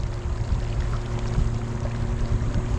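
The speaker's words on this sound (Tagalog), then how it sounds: "Naririnig ko, galit na galit yung makina niya eh." A 4x4 engine roars and revs hard beneath a continuous rush of churning water as it crosses a river off-road toward Mt. Pinatubo crater, loud and steady throughout with no voices.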